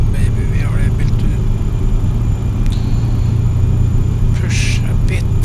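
A heavy truck engine drones steadily as the rig climbs an uphill stretch in Euro Truck Simulator 2, a low continuous rumble dominating throughout. Faint higher background sounds flicker on top.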